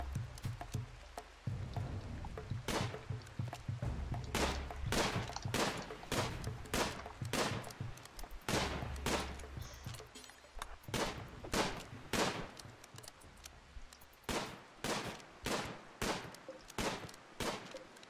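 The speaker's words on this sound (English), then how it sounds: "How the hell is he dodging all that gunfire?" Rapid gunfire from the video game Rimworld crackles in a long, irregular series of sharp bursts, some clustered and some spaced, with no talk over it.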